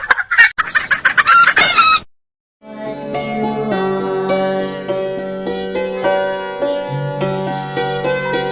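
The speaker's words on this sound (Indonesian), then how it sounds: "Ayam betina." A hen clucks in a rapid burst of loud, close, repeated calls for about two seconds, then falls silent before a sustained, layered musical tone takes over for the rest of the stretch.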